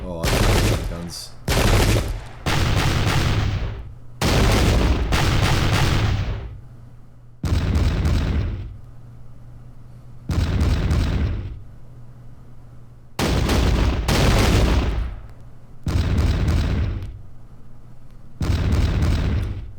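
Musket volleys and cannon fire in the Pike and Shot video game, with a Waterloo mod. Repeated loud, booming bursts of massed gunfire arrive in heavy clusters with short quieter gaps between them.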